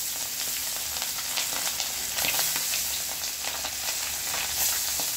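Tengra fish sizzle and fry in hot mustard oil, a steady loud crackle with small pops throughout, with occasional stirring and no voices.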